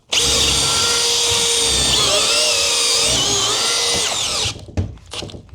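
A Milwaukee M12 BLPDRC cordless drill runs at its highest speed, a loud, steady high-pitched whine with a shifting tone as it bores, then winds down and stops, leaving a few faint clatters.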